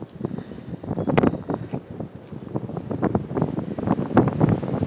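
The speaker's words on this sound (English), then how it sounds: "The wind's picking up." Wind gusting during a Chicago blizzard near an apartment building at about 19 to 20 degrees, a steady rough roar with buffeting surges against the microphone and no talk.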